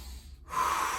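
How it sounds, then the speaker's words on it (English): One deep breath during a stretching exercise: a faint exhale, a short pause, then a louder, close inhale drawn through the nose and mouth. "Deep breaths"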